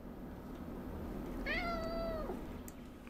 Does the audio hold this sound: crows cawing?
no